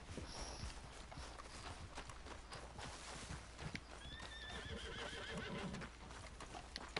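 A horse in the Red Dead game gives a whinny amid steady hoofbeats and ambient outdoor game sound, moderately near throughout.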